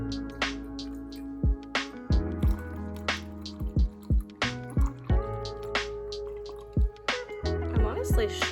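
Water is poured into a potted self-watering plant, heard as repeated drips, gurgles and squishy splashes close by.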